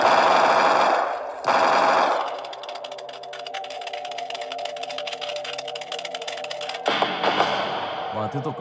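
A fast-firing gun in a mobile video game lets off a rapid, continuous rattle of shots for several seconds, framed by louder bursts of game sound at the start and end.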